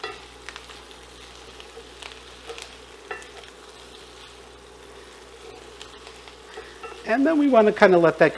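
Pearl onions cook in butter with rosemary in a pan, quiet at first under a person speaking, then bursting into loud crackling sizzle and stirring in the last second or so.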